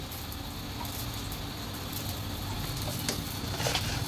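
Oil added to a pan holding spiced fish paste for bata paturi, with green chilli and turmeric, gives a steady broadband sizzle that holds evenly and grows slightly louder toward the end, with no talking.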